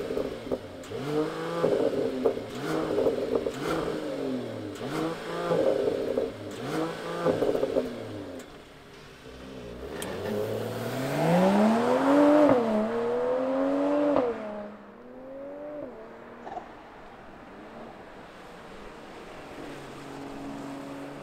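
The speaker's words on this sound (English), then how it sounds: "why don't we fire up this E53 that we have and hear what the AMG sounds like" A 2022 Mercedes-AMG E53 engine is fired up and revved repeatedly, rising and falling in rhythmic bursts, then swells into one longer high rev before settling back to a quiet idle, close and loud.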